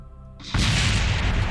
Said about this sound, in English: No clue what caused that explosion